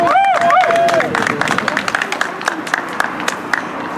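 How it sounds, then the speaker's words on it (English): Rally crowd clapping and cheering after a call for applause, a burst of claps with a few shouts at the start that settles into scattered, thinning applause and crowd murmur. "Round of applause."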